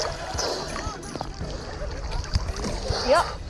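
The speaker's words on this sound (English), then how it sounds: "Here having a swim here in Noumea." Water splashing and sloshing during a swim in the sea at Noumea, with irregular nearby splashes and movement throughout and a voice talking faintly in the background.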